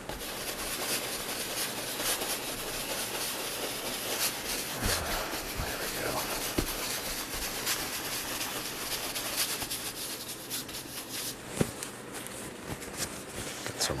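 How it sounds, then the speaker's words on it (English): Linseed oil finish being rubbed onto wood makes a steady, close scrubbing and rubbing noise, continuous and fairly even, with a few faint knocks and handling sounds. "A little bit harder to rub in than regular paint sometimes."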